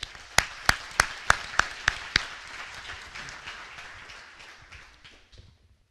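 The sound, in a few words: audience applause at an awards ceremony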